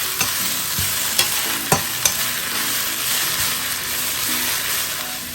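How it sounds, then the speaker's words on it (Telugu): Mint leaves fry in oil for chutney, giving a continuous close sizzle with several sharp clicks and scrapes as a spoon stirs them in the pan. "తడ ఎక్కడా లేకుండా ఆయిల్లో ఇలా ఫ్రై చేసేస్తున్నాము."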